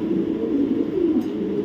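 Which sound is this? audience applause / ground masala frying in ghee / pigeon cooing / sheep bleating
pigeon cooing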